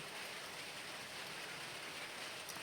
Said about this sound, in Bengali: এখন দেখুন আবার টুকটুক করে বৃষ্টিও পড়ছে